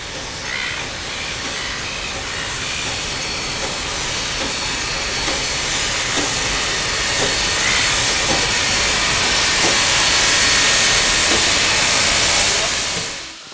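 Train arriving at Stony Point station on an outer Melbourne branch line, a loud, steady hissing rumble that fills the whole stretch and fades slightly at the end.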